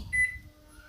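Microwave oven keypad giving a single short electronic beep as the mode is set, clear and close in a quiet room, with a faint hum around it.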